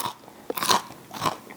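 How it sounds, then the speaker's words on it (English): Freeze-dried cinnamon pickles flavored with red hot candies are bitten and crunched close up, a few crisp brittle crackles over about a second and a half, with no talking. "They have a nice crunch."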